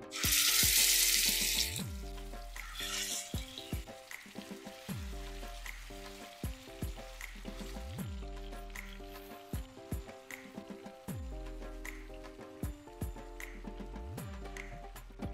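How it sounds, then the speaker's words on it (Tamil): Chicken pieces sizzle in hot oil in a pan for butter chicken, a loud burst of hiss at first that settles into a steady frying crackle, with repeated rhythmic clicks and a low tonal hum underneath. "எண்ணெய் காஞ்சிருச்சுங்க, சிக்கனை சேர்த்திடலாம்"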